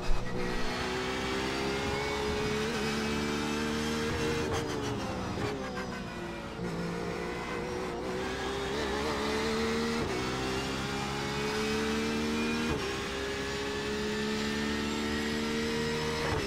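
A Porsche 911 RSR GTE race car engine from the iRacing sim at the Nürburgring holds a steady, loud mid-range drone with rising and falling revs and gear changes, running continuously and close throughout.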